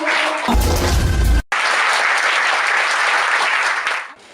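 Loud, steady applause from a church or television studio audience, with a brief dense burst of clapping and low thumps, a sudden cut, then sustained clapping that fades away at the end.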